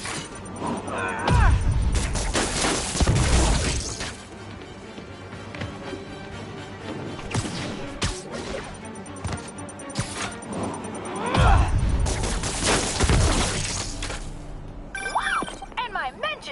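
Blasts and shattering crashes from a Spider-Man video game, two loud bursts of explosion and debris separated by quieter stretches of game sound.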